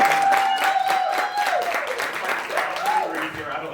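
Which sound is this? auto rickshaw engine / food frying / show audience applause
show audience applause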